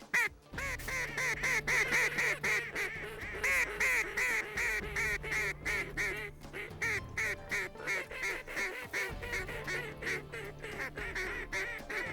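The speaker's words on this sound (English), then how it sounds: "now that's the difference in mallards and gray ducks" Mallards and gray ducks flying in over a North Dakota hunting spread, calling steadily with loud quacks and honking chatter throughout, close and continuous with short pauses.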